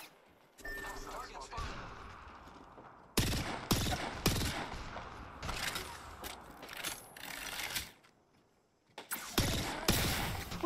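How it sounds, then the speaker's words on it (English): Gunfire in Apex Legends comes as loud, close bursts of shots with mechanical clicks between them, in several separate volleys over ten seconds. "Shots fired at me."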